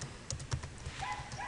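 Quick, light keystrokes on a computer keyboard, a brief run of soft clicks heard faintly and alone.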